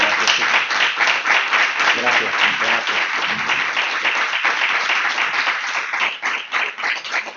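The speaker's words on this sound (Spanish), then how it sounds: "Creo que se ha ganado un aplauso tremendo, magnífico, Mario." Lecture audience breaking into sustained applause, dense clapping filling the room from start to finish while a voice briefly speaks over it.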